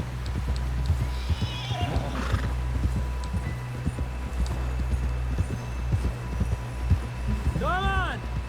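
Horse in the video game Red Dead Redemption 2: a steady clip-clop of hooves under game dialogue, and a sharp whinny rising near the end.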